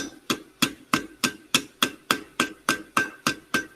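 Hammer blows on metal at the anvil, about eleven sharp ringing strikes in a steady even rhythm, close and loud with a bright metallic ring after each hit and no talking.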